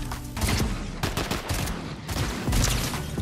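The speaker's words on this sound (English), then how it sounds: "this AR is just too good. Like, it shoots through builds and everything" Rapid bursts of assault rifle fire in Fortnite box fights, dense overlapping shots that fill the whole short stretch at a steady loud level, with no voices.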